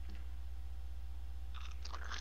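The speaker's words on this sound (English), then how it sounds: "How about a nice crunch for the audience?" A crunchy bite while eating, with a short crackle early on and a louder burst of crisp crunching near the end, close to the mic over a low steady hum.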